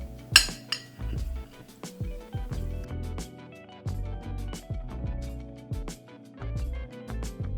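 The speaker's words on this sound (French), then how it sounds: "là je fais des œufs brouillés avec un tout petit peu de sel" Scrambled eggs cooking in a pan with samneh, with repeated metal clinks and scraping of a utensil against the pan, fairly close and steady, with no talking.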